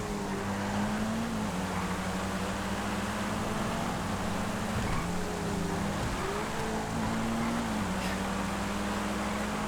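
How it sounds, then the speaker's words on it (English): The Sunrise R Rally car in GTA FiveM drives on with a constant droning engine that rises and dips in pitch as it works through gears, loud and continuous with no voices. "Great little car, this one."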